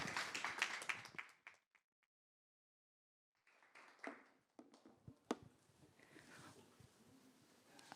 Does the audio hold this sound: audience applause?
yes